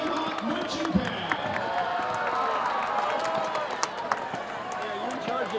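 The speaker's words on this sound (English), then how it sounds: "one more round of applause for your Del Norte High School Nighthawk marching band" A football crowd applauds and cheers for the Del Norte High School Nighthawk marching band, a steady wash of clapping and voices with nearby people talking over it.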